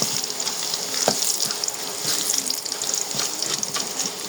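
Crushed garlic fries with panch phoron spices in hot oil, giving a dense, close crackling sizzle broken by a few sharp pops and stirring clicks.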